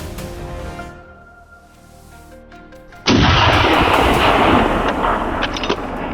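A single loud, close gunshot fired at a wild boar on a dusty rural road in Italy, an abrupt sharp blast followed by a sustained rumbling echo.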